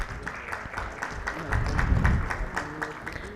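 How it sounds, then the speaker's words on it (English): An audience at a corporate governance panel discussion applauds a panelist, with steady, moderately distant clapping and crowd murmur running through the whole stretch. "Please have a huge round of applause."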